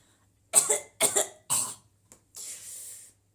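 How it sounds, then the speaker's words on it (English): Three sharp coughs in quick succession, close and fairly loud, followed by a short click and a breathy exhale. "adding a cough at the end to prove his point"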